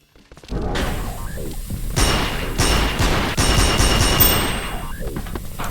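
Gunfire in an immersive sim video game: dense rapid bursts of shots and booms fill nearly the whole stretch, loud and close, with brief whooshing effects mixed in.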